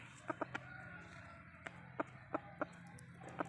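Chickens cluck in short, clipped bursts, spread irregularly over a few seconds and heard faintly at a modest distance over a low background hum.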